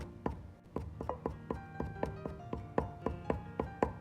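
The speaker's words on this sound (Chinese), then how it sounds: "然后再剁碎" Garlic minced with a knife on a cutting board, quick regular chopping thuds about every half second, close and moderately loud, without speech.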